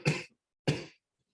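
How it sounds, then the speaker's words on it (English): Two short, harsh coughs about half a second apart, close and fairly loud, with silence between and after them. "I got a cough here."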